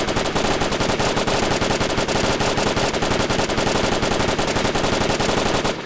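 Sustained automatic fire from a belt-fed machine gun with a bipod, a loud, dense stream of rapid shots running unbroken for about six seconds.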